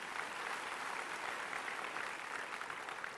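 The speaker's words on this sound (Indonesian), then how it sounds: "Beri tepuk tangan yang meriah buat Tuhan." A church congregation applauds at an Easter service: dense, steady clapping from many hands, close and even in loudness throughout, with no voices standing out.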